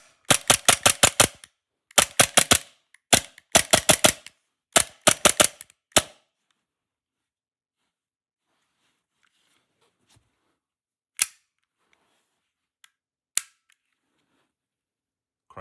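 A Tokyo Marui Glock 26 gas blowback airsoft pistol fires in quick, snappy volleys of close, crisp cracks, followed by quiet with a few isolated clicks.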